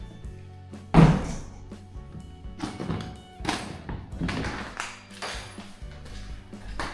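A plastic lid is taken off an IKEA storage box, with one sharp thunk followed by several softer knocks and scrapes of plastic nearby.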